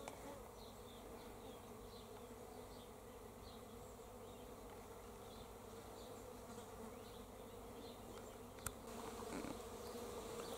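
A low, continuous drone of many bees humming together in a blossoming carob tree, steady and moderately close, with a brief sharp click near the end.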